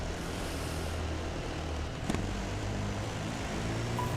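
A helicopter in the Dakar Desert Rally video game gives a steady, loud rotor and engine drone that blends with other vehicle noise for the whole stretch, with a brief sharper burst midway.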